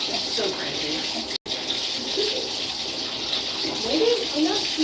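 Hot tap water runs steadily from a faucet close by, a continuous hiss with a brief cutout, while a voice talks over it.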